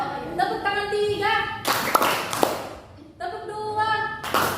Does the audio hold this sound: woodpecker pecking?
no